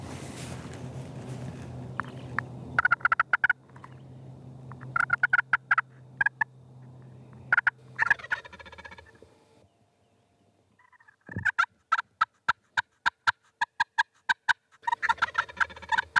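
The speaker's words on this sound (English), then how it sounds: "Bob has heard a distant gobble." A wild Osceola turkey gobbles in answer to scratchy strokes on a slate call, with bursts of rasping yelps and clucks from the slate alternating with the bird's distant rattling gobble in an otherwise quiet outdoor setting.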